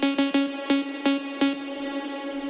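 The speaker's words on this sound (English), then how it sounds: "you can hear it take some time till the reverb like comes in" A bright plucked synth note repeats in quick irregular hits, with a washy future-rave-style reverb, sidechained with a long release, that swells in slowly and lingers after the notes stop.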